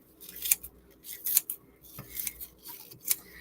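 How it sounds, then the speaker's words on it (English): Kitchen scissors snip through cooked beef for lasagna in a run of about six quick, crisp cuts at an uneven rhythm, close and fairly quiet. "just chop it with scissors"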